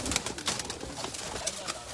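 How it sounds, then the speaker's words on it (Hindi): Teddy pigeons coo in a loose, overlapping chorus, soft and fairly close, with the calls running continuously across the moment and no voices over them. "लेकिन सारे टेडी कबूतर हैं"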